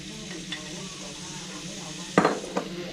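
Minced pork larb being stir-fried in oil in a pan, steady sizzling with scraping stir strokes and a couple of sharp utensil clinks against the pan near the end.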